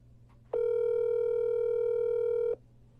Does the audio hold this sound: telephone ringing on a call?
yes